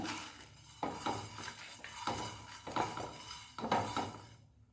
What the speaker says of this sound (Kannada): 2 ಮೆಣಸು ಖಾರಕ್ಕೆ, 1 ಲವಂಗ ಹಾಕಿ ಇದನ್ನು ರೋಸ್ಟ್ ಮಾಡಿ.